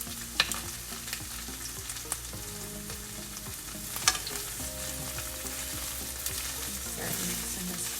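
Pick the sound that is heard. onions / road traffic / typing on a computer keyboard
onions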